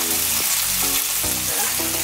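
Chicken pieces fry in a hot pan with a steady loud sizzle and crackle throughout, plus a few soft thuds of cooking movement and no voices.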